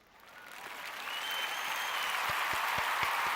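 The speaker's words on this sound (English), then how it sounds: "Let's do really big applause." Applause builds from a quiet start into loud, sustained clapping from a crowd, with a few sharp thumps near the end.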